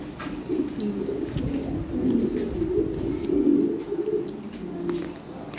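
Lahore Siraji pigeons, an Original European breeding pair, coo in low repeated rolling calls close by, with faint chirps and brief background voices mixed in.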